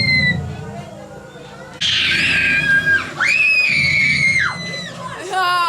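A group of people shouts and screams on a counted cue, a loud high-pitched collective shriek rising after a murmuring lead-in, with a second piercing scream following and babble around it.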